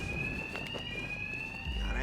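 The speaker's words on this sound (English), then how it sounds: "Two-Face's thugs won't hear me over the alarm." A steady high electronic alarm tone rings throughout a Batman: Arkham Knight scene, continuous and fairly prominent, with a voice talking over it and a low thud near the end.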